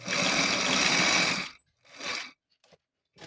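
Close sewing machine stitching bra fabric in one fast burst of about a second and a half, followed by a couple of short quieter runs.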